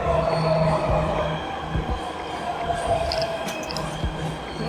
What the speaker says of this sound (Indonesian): Tuh, udah mau datang tuh keretanya tuh.